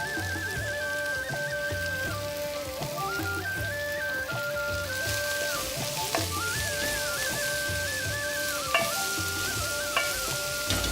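Cabbage frying in a pan with turmeric and asafoetida gives a steady sizzle throughout, with tonal background music running on top.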